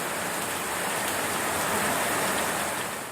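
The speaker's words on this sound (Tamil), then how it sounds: "திடீரென 1 மணி நேரத்திற்கும் மேலாக கனமழை கொட்டி தீர்த்தது." Heavy summer rain pours down in a dense, unbroken hiss, loud and steady throughout with no voices, like a sudden downpour lasting over an hour.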